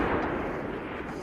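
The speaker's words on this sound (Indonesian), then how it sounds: "Ia lalu menembakkan senjata tanda peringatan dan suara tembakan tersebut menyebabkan B terbangun." A rifle fired as a warning shot in the forest thriller Honeymoon (2014), a single dull, muffled boom with a low rumbling tail, fairly quiet and heard alone without voices.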